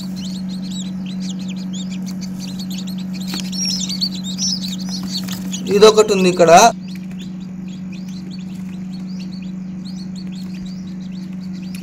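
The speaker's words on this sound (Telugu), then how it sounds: "ఇవేనండి ఇంక్యుబేటర్ మిషన్ లో ఉన్నటువంటి ఒక పిల్లలు," Newly hatched chickens chirp inside an incubator machine, faint high peeps running throughout over a steady low machine hum, with a brief louder burst of chirping midway and a person speaking briefly.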